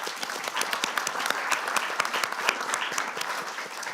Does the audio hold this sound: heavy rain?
no